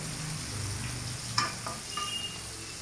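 Cauliflower florets frying in mustard oil give a soft, steady sizzle close by, with a couple of brief scraping clinks from a utensil partway through.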